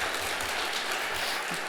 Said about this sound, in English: I don't know if you're clapping for the end or the beginning